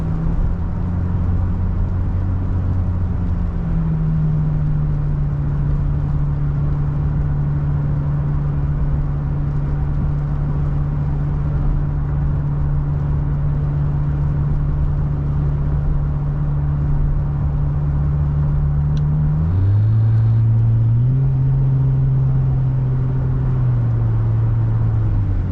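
Steady engine drone of a third-generation Nissan Frontier pickup cruising on the highway at about 60 to 65 mph, holding a low, even hum near 1600 RPM, then a brief rise in pitch late on as the engine note shifts.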